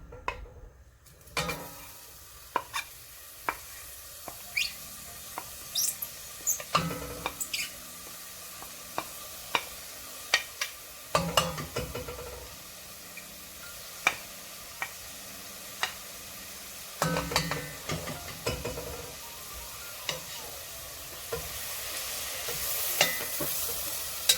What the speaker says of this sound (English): Once the butter melted, add the green onions.